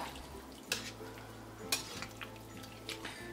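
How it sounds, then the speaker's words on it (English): Vegetables for a weeknight white chicken chili are stirred in a pot, giving a few distinct scraping clanks of utensil against metal over a soft steady bubbling hum, close and fairly quiet. "I'm gonna kind of stir this up."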